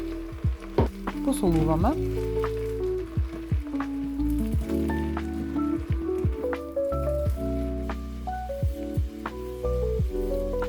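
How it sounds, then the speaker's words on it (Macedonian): Chopped onions fry and caramelize in oil in a multicooker for a Macedonian goulash, a continuous sizzle with the scrape of constant stirring, while a voice speaks briefly over it. "Пржиме со постојано мешање и оставаме кромидот да се карамелизира."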